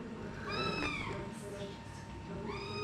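A kitten meows twice nearby at a veterinary clinic visit for vaccination, a drawn-out wavering call followed by a shorter one, over faint background noise.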